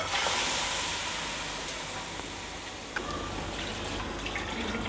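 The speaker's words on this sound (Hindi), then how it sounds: "एक जग पानी डाल रही हूँ।" A jug of water poured into a wok holding meat for an aloo gosht curry, a continuous splashing, hissing rush of liquid at close range with no voice.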